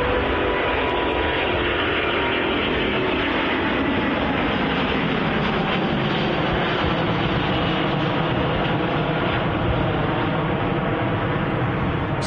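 A Singapore Airlines A350-900 jet departs Manchester Airport for Houston, its engines roaring loud and steady throughout with a broad, sustained rumble and no voices.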